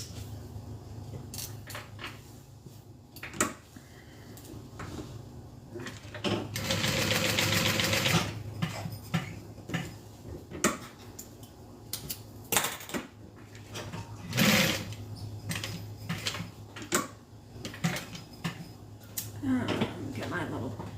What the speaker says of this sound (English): All right, let's sew these down.